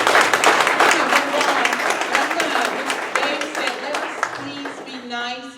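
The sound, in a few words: audience applause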